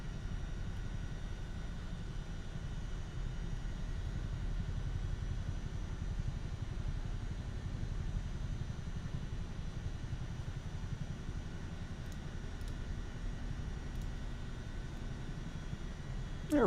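Airplane engine in flight in Microsoft Flight Simulator 2024, heard as a faint, steady low droning hum that continues evenly with no other sounds.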